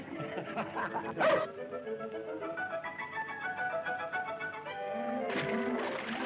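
A dog barks in a 1932 film, giving a few sharp yips and bow-wows up close between stretches of a musical score.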